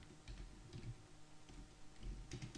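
Keystrokes on a computer keyboard while writing a WordPress blog post, a quiet, steady patter of close clicks with a few denser bursts over a low room hum.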